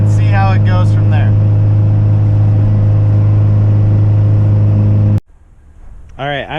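A car riding on Faction Fab FR-Spec coilovers, its engine humming steadily inside the cabin, with a person talking over the drone before it cuts off and more talk follows.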